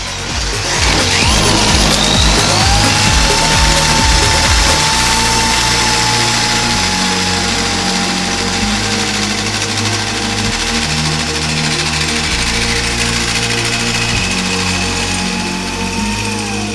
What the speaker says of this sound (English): We're going to start with the standard depth hole saw.